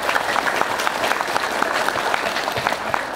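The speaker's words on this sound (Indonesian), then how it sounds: "Tepuk tangan yang mulia." A crowd at an Islamic boarding school (pesantren Miftahul Ulum) gathering claps steadily for a preacher on stage, dense applause with a murmur of voices underneath.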